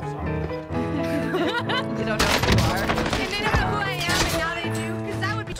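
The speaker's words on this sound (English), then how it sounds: "I love how much shotguns piss people off, bro." Shotgun blasts in a Call of Duty match on Rebirth Island: several loud, sharp booming shots scattered through the stretch, mixed with other gunfire and game sounds, with no one speaking.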